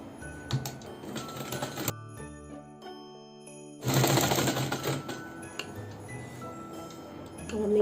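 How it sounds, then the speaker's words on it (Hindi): A sewing machine runs in bursts while stitching a sleeve hem of a summer girls' top, with rapid mechanical ticking and clicking, a pause near the middle, then a louder, steadier run; faint background noise throughout. "अब एक ऊपर और एक नीचे करके सिलाई करते हैं"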